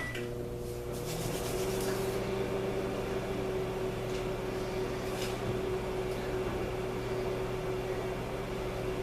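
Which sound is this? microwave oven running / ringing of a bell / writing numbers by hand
microwave oven running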